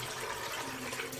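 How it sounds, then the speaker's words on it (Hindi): Water poured steadily into a pressure cooker holding half a kilo of white chickpeas, a continuous close gushing and splashing fill with no talk over it. "पानी हम कितना डालेंगे"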